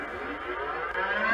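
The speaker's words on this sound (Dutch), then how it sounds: "Mag ik de sirene horen?" A quiz-show siren wails steadily in a studio, one sustained loud tone lasting the whole moment with no voices over it.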